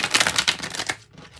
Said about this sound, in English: So, we're going to cut the deck for this one.